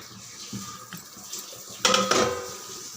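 A metal lid set down on a cooking pot of spicy side dish: a few soft clinks, then a louder clattering clank of metal on metal near the end, close and clear. No speech.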